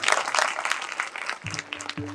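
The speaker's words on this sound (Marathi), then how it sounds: "त्या चिमुकल्यांना सुद्धा त्यांच्याकरता टाळी वाजवायचं जोरदार." Crowd at a devotional kirtan gathering claps loudly in a dense burst for over a second, then the applause fades as a voice begins speaking.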